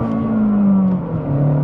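A modified, not-stock Mazdaspeed accelerates hard with torque steer, the engine droning loud and close as its pitch falls slightly through the short pull, with no talking.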